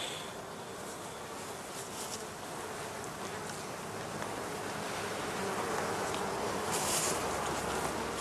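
Honeybees at a heather skep apiary buzz in a dense, steady drone, with many insects close by and swelling slightly louder over time.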